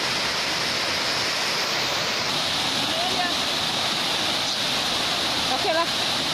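Noelaku waterfall, the Love Waterfall in Timor Tengah Selatan, Indonesia, roars as a loud, steady, dense rush of water throughout, with faint voices barely surfacing beneath it.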